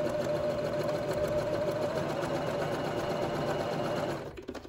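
Sewing machine stitching fabric for a multipurpose organizer, a steady fast mechanical whirring hum running continuously at close range, then slowing and stopping near the end.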